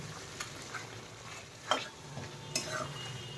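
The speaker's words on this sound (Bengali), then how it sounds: "এবার এটা আমি খুব ভালো করে সমস্ত মশলাগুলো চিকেনের সাথে মিশিয়ে দিচ্ছি" Chicken coated in masala spices and kasuri methi is stirred in a pan, soft scrapes and a few sharper knocks of the spoon over a faint, quiet sizzle.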